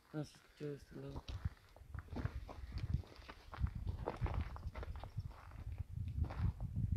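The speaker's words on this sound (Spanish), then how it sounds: "Es que pisas y truenan los, las piedritas." Footsteps crunch steadily over loose small stones at an abandoned hacienda, quiet and continuous, with a short burst of voice at the very start.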